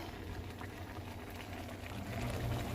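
Nigerian edikaikong soup bubbling in a pot, a steady low rumble of boiling liquid with soft popping that swells slightly louder toward the end, heard alone with no talk.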